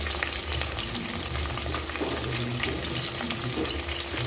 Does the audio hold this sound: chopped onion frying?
yes